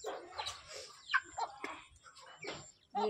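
Chickens near a village house, giving scattered faint clucks and short squawks at close range over a quiet background, with a louder call at the very end.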